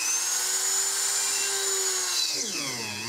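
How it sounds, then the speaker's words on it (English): A small drill bores a larger hole into the top of a golf ball, a thin steady whine that wavers and bends in pitch toward the end, close and fairly quiet. "I'm going to drill a bigger hole into the top of the golf ball."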